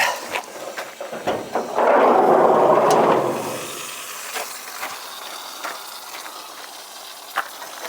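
Loud broadband hissing swells for about two seconds as coolant boils and steams off an old car engine, likely from the heater hose area, then fades into faint clicks and ticking.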